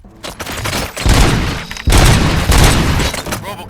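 Gunfire from the video game Robocop: Rogue City comes in loud, dense bursts of rapid shots with heavy booming impacts, separated by brief pauses.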